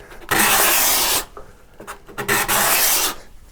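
A card scraper shaving curls off a wooden board gives two long, loud rasping strokes and a shorter scrape between them, close up with no talking.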